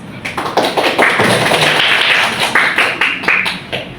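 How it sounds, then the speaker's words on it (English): An audience claps to welcome a speaker at an MC practice event, a loud, close burst of many hands with sharp individual claps standing out and tapering off toward the end. "Give applause."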